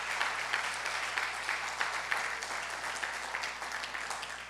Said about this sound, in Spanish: Por favor, démosles un aplauso de bienvenida.